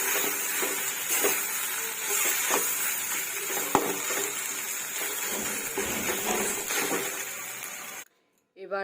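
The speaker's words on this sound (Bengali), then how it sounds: "নাড়াচাড়া করে আমি শাকটা নামিয়ে নেব" Drumstick leaves being stirred in a frying pan, a steady sizzle with light scraping and clinks of the utensil against the pan, under a voice talking, ending in a sudden drop to near silence.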